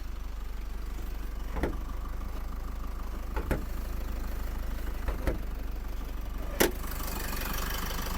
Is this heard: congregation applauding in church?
no